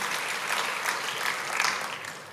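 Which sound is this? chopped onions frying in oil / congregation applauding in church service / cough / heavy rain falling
congregation applauding in church service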